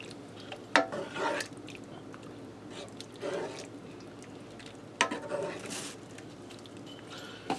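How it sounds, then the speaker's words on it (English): Spaghetti sauce with cumin is stirred in a skillet, giving soft wet scraping and sloshing strokes in a few short bursts over a faint sizzle, close and fairly quiet. "I'm going to give that a stir. Get everything all blended together."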